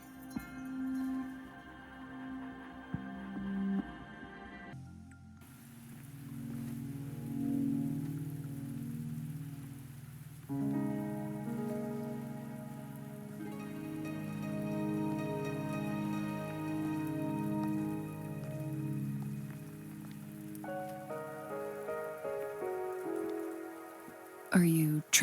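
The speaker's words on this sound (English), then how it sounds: "Are you trapped here by the rain?" Soft rain falls in a Wuthering Waves game scene, a quiet, steady patter that runs beneath sustained, gently shifting background music.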